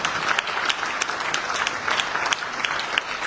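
A dense, steady round of audience applause at the official launch of an executive mansion communication internship program. Many hands clap together with no break, and no voices rise above it.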